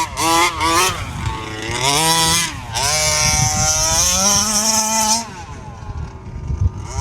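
A large gas-powered RC car's small engine screams at high revs, pitch swooping up and down as it accelerates and eases off, then drops to a rough idle near the end.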